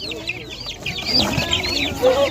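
Local chickens and chicks at a poultry market in Pitnak, Xorazm, Uzbekistan cluck and cheep continuously, close and busy, with higher chirps layered over a murmuring crowd.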